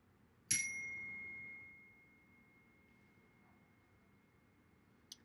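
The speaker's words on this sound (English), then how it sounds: "It can get kind of loud when I chime my chime." A single chime is struck once, ringing out as a clear, sustained tone that slowly fades over about a second and a half in a quiet room.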